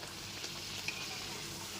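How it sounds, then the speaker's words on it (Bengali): Naan puri deep-frying in hot oil, a steady soft sizzle with faint bubbling that holds level throughout, no voices. "সমস্ত নানপুরিগুলো আমি একই রকমভাবে ভেজে তেল থেকে তুলে নেবো"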